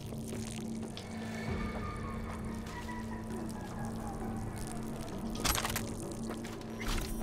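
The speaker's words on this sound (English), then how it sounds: "Where's that running water?" Water running in Cyberpunk 2077, a soft constant pour and trickle with a low hum beneath, fairly faint and steady, broken by a few short splashy spikes.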